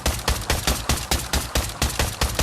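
Rapid, evenly spaced pistol gunshots in the VR shooter Pavlov, about ten loud, punchy reports in quick rhythmic succession, close up with no talking.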